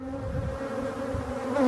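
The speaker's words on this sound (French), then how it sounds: "Vous voyez les abeilles qui sortent là." A steady, close buzzing of many honey bees flying out of a hive, droning continuously with a soft low hum beneath.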